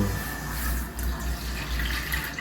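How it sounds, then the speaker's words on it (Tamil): Milk poured from a large container into a hot kadai, a steady liquid gush with a low rushing pour running close and continuous throughout. "கடாய் நல்லா காயணும் அப்போ பால் ஊற்றணும்"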